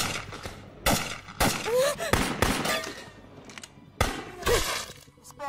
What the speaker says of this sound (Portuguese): Eu tô ouvindo tiros.